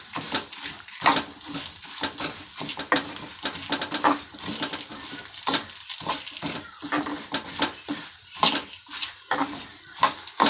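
Food fries in a pan, a continuous sizzle broken by repeated scraping stirs and metal clinks of utensil against cookware.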